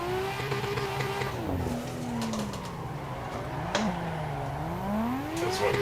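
A DTP R32 Skyline in the Assetto Corsa driving simulator revs its engine repeatedly, the steady tone climbing and falling with each throttle blip over a continuous drone, with no voices.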